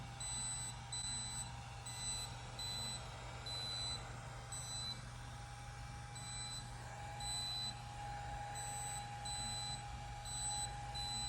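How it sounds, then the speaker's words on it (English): Short high-pitched electronic beeps from a DermRays Revive anti-aging skin device as it touches skin repeat in a steady rhythm over a constant low hum, fairly faint and with no talking. "As it makes 2 points of contact with your skin, you're gonna hear it beeping."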